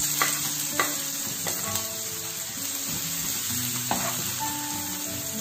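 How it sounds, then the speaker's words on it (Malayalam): Chopped onion frying in hot coconut oil in a pan, a continuous close sizzle with a few brief crackling spikes and faint clinks of stirring. "വെളിച്ചെണ്ണ ചൂടായിട്ടുണ്ട്, അതിലേക്ക് നമുക്ക് അരിഞ്ഞു വെച്ചിരിക്കുന്ന ഉള്ളി ഇട്ട് കൊടുക്കാം."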